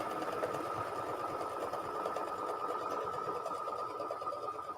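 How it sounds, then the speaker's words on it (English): A sewing machine stitches a patchwork of old blue jeans, a steady fast whirring drone with rapid needle ticking, continuous and close, with no talking. "And then I'm going to sew."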